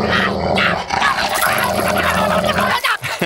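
A dog barks and growls close by, loud and continuous, with rough snarling bursts over a noisy background.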